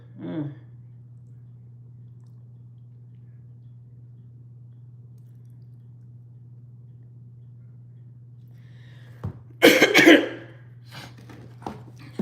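A long stretch of near silence over a low steady hum, with a brief sound at the start and a burst of a couple of loud coughs toward the end.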